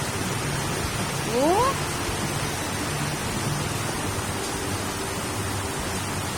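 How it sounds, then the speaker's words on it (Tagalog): Steady, heavy typhoon rain roars continuously, a dense wash of noise with a brief rising tone near the start. "Okay lang ganito, malakas ang ulan"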